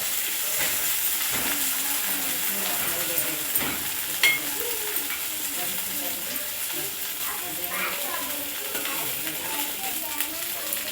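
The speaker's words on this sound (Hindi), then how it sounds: "और इसे भी थोड़ा भून लेंगे।" Mint leaves frying in a pan with ginger garlic paste for an ivy gourd masala, giving a steady close sizzle and hiss with occasional stirring scrapes throughout.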